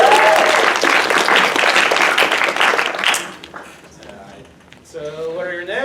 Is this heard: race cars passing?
no